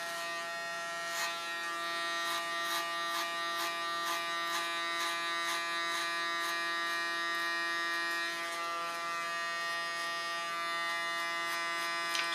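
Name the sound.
electric hair clipper cutting hair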